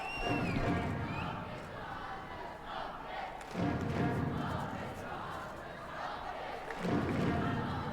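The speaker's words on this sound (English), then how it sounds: "Well, the crowd has woken up and is encouraging Frey all the way." A judo arena crowd at a Grand Slam tournament in Düsseldorf cheers and shouts encouragement to a fighter, rising in surges that swell and ease in repeated waves over the distant murmur of the hall.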